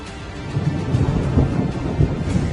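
Heavy monsoon rain pours down in Surat, with a dense, steady roar of downpour and deep rumbling thunder rolling underneath, loud and unbroken without any voices.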